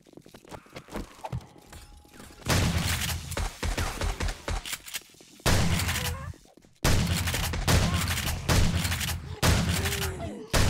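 Bursts of gunfire from a powerful gun in the zombie survival game 7 Days to Die during a horde night, loud sustained volleys broken by short pauses, with no talking.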